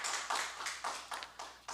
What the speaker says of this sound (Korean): 자, 우선 하나님께 영광의 박수 올리겠습니다